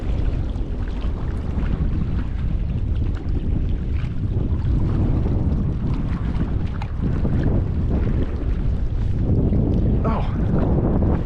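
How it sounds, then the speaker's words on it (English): Steady wind buffeting the microphone outdoors while fishing in an urban spot in Denver, a loud continuous low rumble with gusts rising and falling throughout and no talking. "this wind's making it hard to cast anything"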